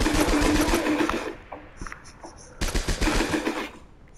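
Automatic gunfire in the video game United Assault, two loud bursts of rapid rattling shots separated by a brief lull with faint distant clicks, close and harsh.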